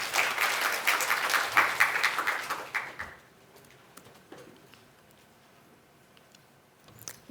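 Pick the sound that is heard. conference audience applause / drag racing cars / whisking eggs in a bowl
conference audience applause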